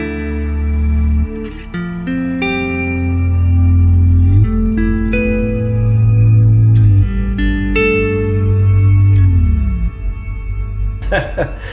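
Sustained electric guitar notes glide and bend in pitch through a pitch shifter and a huge washing reverb from Late Replies, with shifted octave layers, loud and alone.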